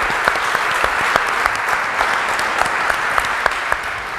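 Sustained clapping from a seated audience at a Buenos Aires tertulia on consciousness, an even, dense burst of many hands lasting several seconds at steady loudness, with no voices on top.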